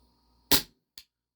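WE Tech Bulldog 6mm gas blowback airsoft pistol firing on green gas: one sharp loud pop followed by a smaller, quieter click half a second later, close and otherwise silent.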